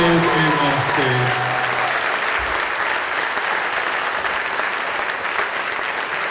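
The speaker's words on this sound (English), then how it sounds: "Can we have a round of applause for all of our performers, both on stage and off stage?" Loud audience applause for stage performers at an arts festival, a dense, continuous clapping crowd; a brief tonal musical sound opens it before the clapping carries on steadily throughout.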